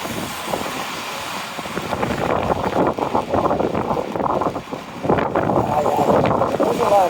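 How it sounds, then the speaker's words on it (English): Strong gusts buffet the microphone on a downtown street during heavy rain, a loud continuous low roar that swells and surges over about seven seconds with little pause. "There's a lot of wind."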